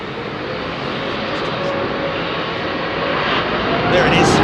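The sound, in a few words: airliner jet engines spooling up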